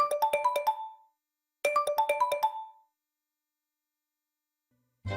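A phone rings for an incoming call with two bursts of a bright, warbling electronic tone, separated by silence, followed by a short noise at the end.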